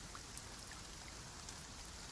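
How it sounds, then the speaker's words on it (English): Soft, steady rain patters on a greenhouse roof on an evening, a constant low hiss with a few faint, isolated drips, quiet and without voices. "The sound of the bristles on the brick mixes with the long sound of the rain above, and the slow plink of the drip into its saucer"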